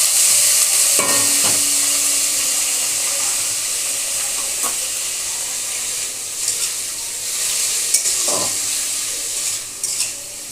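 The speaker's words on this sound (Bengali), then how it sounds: "এবার এই সেদ্ধ করা লাউর খোসাটা আমি কড়াইয়ের মধ্যে দিয়ে দিলাম।" Boiled bottle gourd peel frying in a kadai with black cumin and chilli tempering, a loud steady hissing sizzle close up, with a few spatula scrapes and clacks against the pan and no talking.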